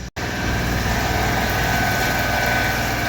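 A CNC machine drills holes in a billet wishbone for a 1959–64 Impala, giving a loud, steady mechanical roar that cuts out briefly at the start and then runs on continuously.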